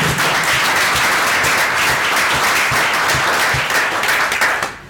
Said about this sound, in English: So let's have a big round of applause for Plexel